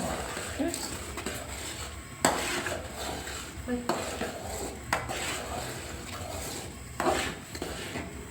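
Ground chana dal is stirred in a pan, giving a quiet, steady scraping with sharp clinks of the spoon against metal at irregular intervals.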